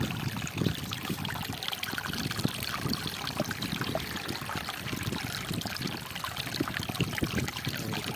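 A stream of water flows and trickles steadily over rocks outdoors on a morning, the rushing sound continuous and fairly close with no voices.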